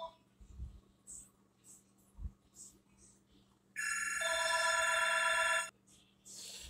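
A telephone rings indoors with a loud electronic ring lasting about two seconds, following scattered faint tapping and handling noises, with no one speaking over it.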